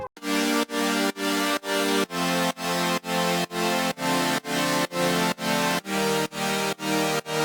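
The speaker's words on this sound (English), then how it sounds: "for the main body of the drop of course we need thick chords like this." Thick, wide synth chords for a progressive house drop, a dense sustained stack pulsing in steady rhythmic stabs with a pumping ducked feel, a chord change partway through.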